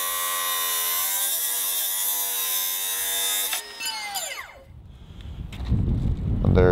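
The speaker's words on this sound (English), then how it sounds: "here we go, cutting the rebar. This is 1/2-inch rebar with the abrasive wheel." A Milwaukee M18 Fuel 9-inch cut-off saw with an abrasive wheel cuts 1/2-inch rebar. A loud, steady high motor whine winds down sharply, then gives way to rough, noisy grinding and rumbling.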